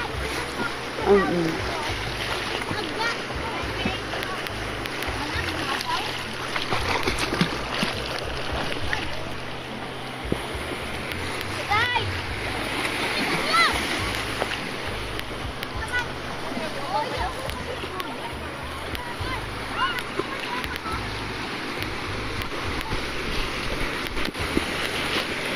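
Heavy ocean surf off Camiguin churns and splashes continuously under gusty wind noise, with people talking and calling out over the roar of the big waves.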